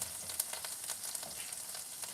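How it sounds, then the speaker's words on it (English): Butter heats in a pan, popping and sizzling with a steady crackling hiss and scattered sharp pops, close up, faint overall, with no voices. "once it's still popping, you know it's not that hot yet"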